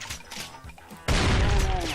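A 30-round rifle in Brutal Doom bursts into loud gunfire halfway through, a dense close rattle of shots following quieter earlier thuds.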